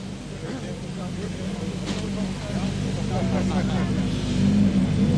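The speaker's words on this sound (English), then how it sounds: "Desi and the Citron C2 Rally 2 car number 8" Citroen C2 Rally2 rally car number 8 idling at the start ramp of the Donegal International Rally, a steady low engine rumble that grows slightly louder, heard under continuous commentary speech.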